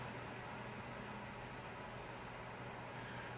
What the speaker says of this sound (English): having a cricket chirping in the background of your video